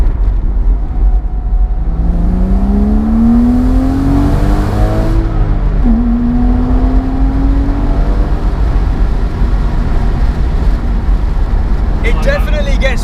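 A Porsche 987 Boxster S engine rises in pitch as it revs up through the gears, then drops briefly and climbs again, heard continuously from inside the car with a steady road rumble underneath.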